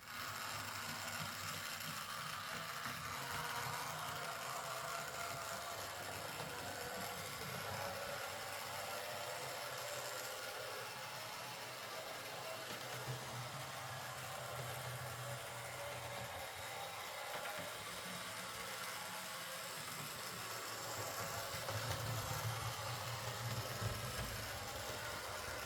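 An old model 4F locomotive runs noisily and steadily throughout, a continuous mechanical whirring and rattling hum at moderate loudness, with no talking.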